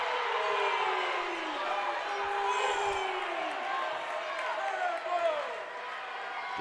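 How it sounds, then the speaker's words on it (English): A crowd cheers and whoops at a girls' high school district final basketball game, Centerburg against Africentric, a loud, swelling roar that rises and falls over several seconds, with a commentator talking over it. "Hear this crowd"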